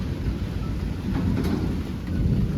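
Deep thunder rumbles under the steady hiss of rain during a cyclone, a low rolling roar that swells slightly toward the end.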